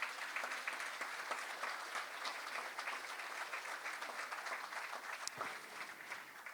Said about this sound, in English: A big clap to all the representatives.